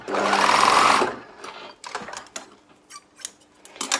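A sewing machine stitches fancy trim onto a jacket, running in a loud, steady whir for about a second, then stopping. Softer clicks and handling taps of the fabric and machine follow.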